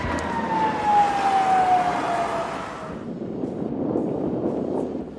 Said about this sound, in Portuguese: uma sirene de aviso é acionada quando os tubarões aparecem na praia de Fischhoek